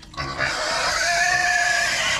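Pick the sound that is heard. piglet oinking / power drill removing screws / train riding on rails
piglet oinking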